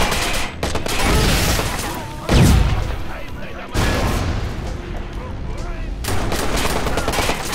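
Heavy automatic gunfire from in-game weapons in Watch Dogs rattles in dense, sustained bursts with a booming blast near the middle, loud and close, with brief gaps between volleys.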